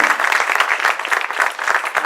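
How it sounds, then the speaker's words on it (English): A crowd gives a round of applause in honor of Dr. Philip Clayton at a recognition ceremony, a steady dense patter of many hands clapping close by with no talk. "I would like to give a round of applause to a person, again, Dr. Philip Clayton."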